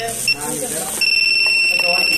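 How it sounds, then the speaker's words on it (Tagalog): Motorcycle anti-theft alarm on a Sniper 155, set off by its remote: short beeps at first, then a steady high electronic tone sounding continuously, with someone talking underneath. "Pag ginalaw to, mag-alarm lang po yung remote."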